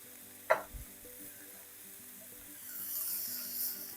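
Garlic gently sizzles in a pan while being cooked for shrimp fried rice, a soft, close frying hiss that swells toward the end, opened by a sharp clink of a utensil.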